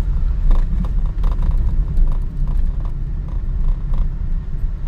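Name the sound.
cars driving on the Mumbai–Goa highway in rain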